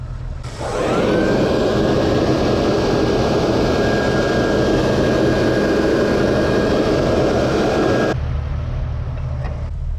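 A blower roars steadily at close range beside a Jeep Wrangler engine with a rough idle. The loud, even rushing carries a faint whine, then the blower stops abruptly, leaving the engine's lower rumble.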